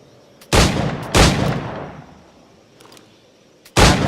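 Loud, sharp firearm shots in the Assassin's Creed 4 video game: two close blasts in quick succession, then a third after a quiet pause, each with a short echoing tail and no talk.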